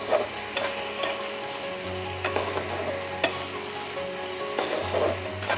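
Garlic prawns frying in oil give a steady, close sizzle, with repeated scrapes and taps of a utensil stirring the pan and a low hum underneath, and no voices.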